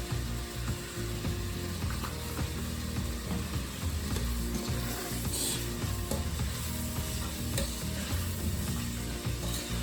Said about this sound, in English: Now you want to saute these for about 5 minutes and get them nice and tender.